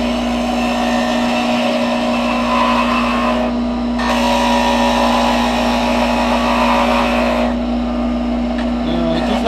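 A wood lathe spins a bottle stopper turned between centers while a tool cuts a small bevel, giving a loud steady motor drone with a bright scraping band that drops out briefly midway and near the end.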